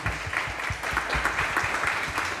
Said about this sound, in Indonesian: Tepuk tangan dulu dong untuk santri guyangan.